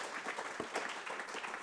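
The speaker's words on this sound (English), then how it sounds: "Can I have a huge applause for Ton, our last guest." Applause from an evening audience at an urbanisation talk event, honoring the final guest: a brief, even wash of clapping, moderately distant and quiet.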